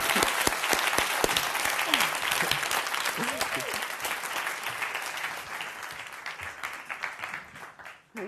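A crowd at a women's day event applauds a speaker, with loud sharp claps and scattered cheers at first, then a steady clapping that gradually thins out toward the end.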